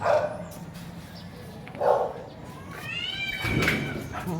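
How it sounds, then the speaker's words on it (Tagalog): A dog gives a few short barks and yips spaced apart, mixed with a whining, meow-like cry, fairly close with a faint background. "Yung aso kong Marites"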